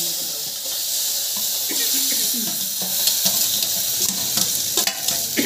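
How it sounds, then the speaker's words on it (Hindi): Hot oil sizzles and spits steadily as whole chillies and tempering spices hit the pan, a continuous close hiss with occasional crackles and a voice talking faintly underneath. "इधर तड़का तैयार करने लग रहे हैं, और ये है इसको पकाएंगे तड़के में"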